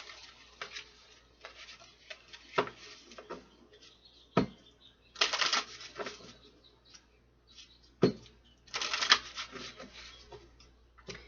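A deck of Dark Mirror Oracle cards being shuffled by hand, with repeated riffling bursts and soft slaps separated by short pauses, near and moderately quiet, with no one speaking.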